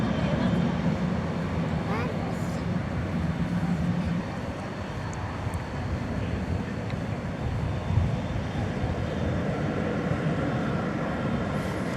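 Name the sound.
American Airlines Boeing 777 aircraft to Los Angeles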